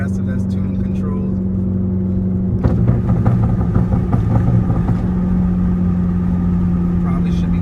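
A Hyundai Elantra fitted with a single-exit titanium race exhaust, its engine holding a steady idle drone that swells into a louder, rougher rev partway through before settling again, close and prominent.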